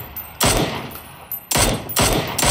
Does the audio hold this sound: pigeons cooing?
no